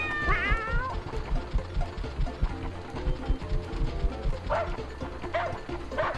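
Cartoon cat meows repeatedly in the Disney's 101 Dalmatians II: Patch's London Adventure video game, rising cries near the start and again later over busy game music and dog-like yips.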